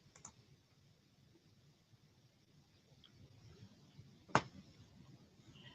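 A single sharp computer mouse click stands out near the end, close and crisp against a quiet room hum, with a few fainter ticks earlier.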